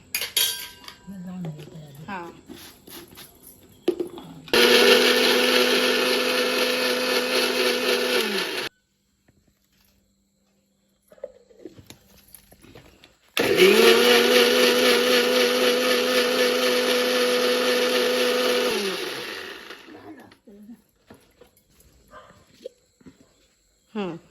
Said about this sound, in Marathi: या मिक्सरला लावून एकदम सगळं मिश्रण हे करून घ्यायचा